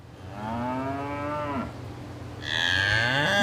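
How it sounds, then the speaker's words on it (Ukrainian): Two long, low moos from a cow, the second rising toward the end, close by with a steady hum in the background. "Я чую корову."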